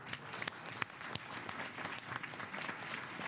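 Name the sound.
applause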